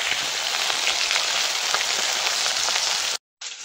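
Fish sizzling as it fries in hot oil in a home kitchen, giving a steady, dense crackle close by that stops abruptly near the end, with no talking.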